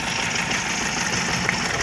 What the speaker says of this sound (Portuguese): Vou estar tirando a vela agora, o carro vai sentir bastante